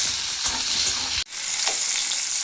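Ginger, garlic and onions fry in a pan with a loud, dense hiss that cuts out for a moment halfway, then returns with faint stirring scrapes.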